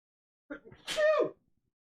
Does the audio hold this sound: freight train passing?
no